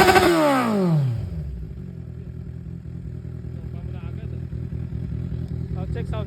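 A Kawasaki Z1 motorcycle engine, revved once with a sharp falling sweep, then settling into a steady close idle rumble and clatter.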